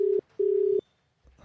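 Outgoing telephone ringback tone sounds twice as steady electronic beeps, a short one then a longer one, followed by a brief faint noise, with no talk.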